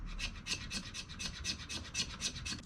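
A knife spine scrapes a ferro rod, about a dozen rhythmic rasping strokes in quick even succession, close and bright, with no voices.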